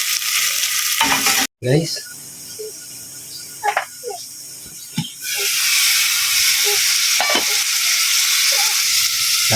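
Sliced pieces of meat hit a hot pan with a loud, steady sizzle for sautéed corn with ampalaya leaves, broken by scraping stirs; a brief voice speaks early before the frying settles into a continuous hiss.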